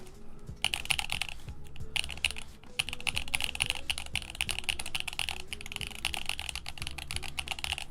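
Fast bursts of keystrokes on a Neo Ergo mechanical keyboard with tuned stabilizers, crisp close clacks arriving in quick irregular runs with a few brief gaps.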